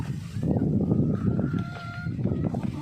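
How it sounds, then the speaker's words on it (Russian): A crowd of roosters and hens at a backyard poultry yard clucks and calls in a busy, overlapping chorus, with a few drawn-out crowing notes standing out at moderate distance. "Петухов много"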